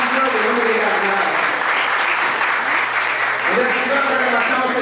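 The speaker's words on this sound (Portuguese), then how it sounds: "Palmas, senhoras e senhores, muito obrigado." Dense, loud applause fills a festival lecture hall, sustained and even from start to finish, with some voices mixed into the crowd.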